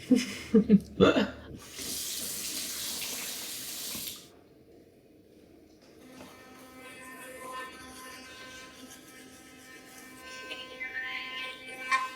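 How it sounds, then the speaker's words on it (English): Toothbrush scrubbing teeth after tongue scraping at a bathroom sink, with a burst of running tap water early on, then steady close brushing strokes continuing quietly to the end. "I'm gonna do my tongue scraping and then brush my teeth."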